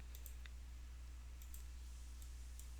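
Faint, crisp computer mouse clicks over a steady low hum, a few scattered single and paired clicks spaced irregularly, no talk.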